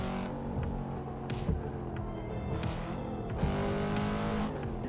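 A Volvo car engine in a racing video game, revving up and down through repeated gear shifts with bursts of tyre squeal, steady and moderately loud, with no speech over it.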